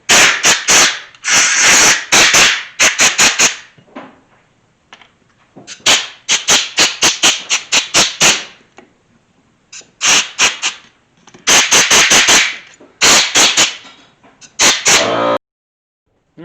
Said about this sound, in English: sorry about that air compressor. I normally turn it off, but I want to make sure there's no water in there at all